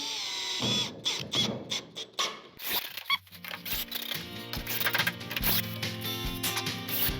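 Power drill driving screws into drywall: short whirring bursts with clicks and squeaks, then a longer steady whine from the drill, heard up close in a quiet room.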